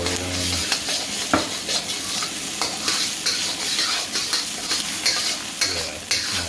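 Oil hitting a hot pan while cooking drunken noodles, a loud close sizzle broken by repeated scraping stirs and clinks of a utensil on metal, no talking.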